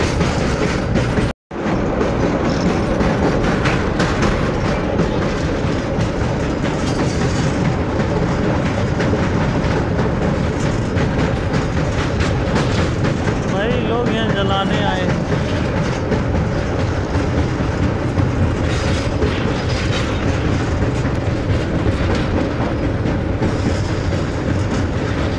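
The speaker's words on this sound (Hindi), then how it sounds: "हमारी ब्लैक डायमंड एक्सप्रेस आ गई अपनी second hall Barakar railway station में" The Black Diamond Express, a superfast passenger train of Eastern Railway's Asansol division, runs loudly and steadily on the rails near Barakar railway station, a continuous rumble with rhythmic clickety-clack of wheels over joints for about 25 seconds.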